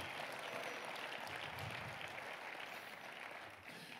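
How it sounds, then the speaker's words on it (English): A church congregation claps in a dense, continuous round of applause during a sermon, holding steady and easing slightly toward the end. "Oh, you can clap better than that."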